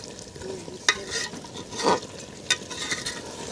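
Village-style deshi chicken is sautéed and stirred in a handi pot under a lid. A faint background sizzle carries a few sharp clanks of the spoon against the pot. No voices are heard.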